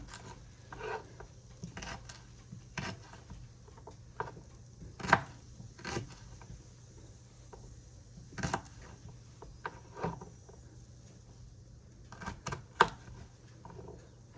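Faint, irregular chops of an aruval billhook knife through dried fish and onions, with soft thuds and scraping strokes spaced a second or two apart in a quiet kitchen.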